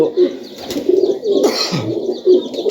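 High flyer pigeons coo nearby in soft, repeated low calls, several overlapping murmurs in quick succession.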